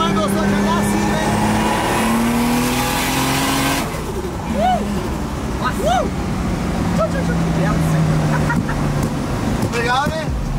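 A Nissan 350Z cruising on a highway, its engine a steady loud drone with gear-change pitch shifts and road and wind noise throughout; someone talks in Portuguese over it.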